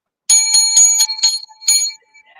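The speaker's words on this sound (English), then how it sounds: "I got the hotel bell." A hotel desk bell is struck in a quick run of about five bright, ringing dings, then one more, each note sustaining briefly before the next, loud and close with no talking.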